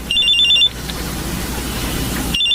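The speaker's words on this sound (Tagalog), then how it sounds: "May tumatawag sa cellphone ko." A cellphone rings as a sound effect in a Filipino radio drama, loud electronic trilling bursts at the start and again at the end, separated by a stretch of low background hiss.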